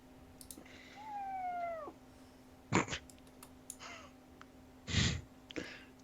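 A cat meowing in a quiet room, a drawn-out falling meow followed by a couple of shorter calls, moderately close, with a few sharp bumps and a low steady hum underneath.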